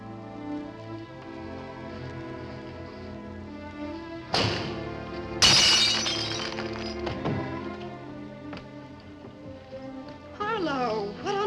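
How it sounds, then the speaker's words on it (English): A window pane of glass shatters at night indoors, a sharp crash followed by a bright burst of breaking glass, with tinkling pieces and voices around it. "if you shatter a pane of glass in the dead of night, it makes a noise"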